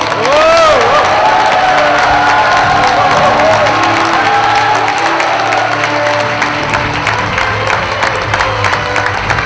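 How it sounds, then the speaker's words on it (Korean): A crowd welcomes the mayor at a district New Year visit ceremony, loud sustained applause mixed with cheering and whoops from many people, with raised voices and a shout near the start before the clapping carries on steadily. "유정복 시장님을 큰 박수와 함성으로 만나주시기 바랍니다"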